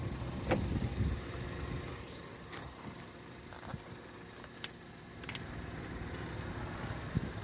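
A 2014 Ford Escape SE with dual exhausts idles quietly as a steady low engine rumble, with a few faint clicks and handling knocks over it and no talking.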